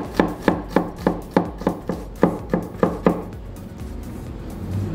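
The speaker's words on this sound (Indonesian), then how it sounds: "Sekarang bawang putih dikeprek aja sebentar" Garlic cloves are struck flat with a knife on a cutting board: about eleven sharp, evenly spaced thuds in a quick steady rhythm, close and clear, followed by quiet.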